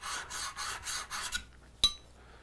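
A hand plane iron is honed at a steep angle of roughly 40 degrees on a sharpening stone, a few quick rhythmic rasping strokes close by, then silence broken by a single sharp clink.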